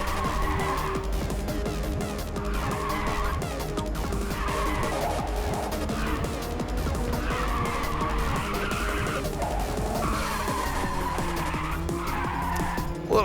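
Race car tires skid and squeal through an oversteering slide in the PSP game Ridge Racer (2004), a steady loud engine drone running underneath with repeated rising and falling squeal bursts throughout.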